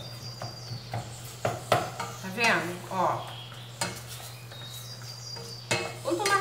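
Ground beef and green beans are stirred in a pan with a spoon, producing scraping clatters and soft sizzling in irregular bursts, with someone speaking briefly in Portuguese.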